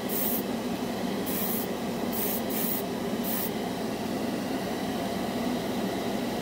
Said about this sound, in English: The airbrush loves clears.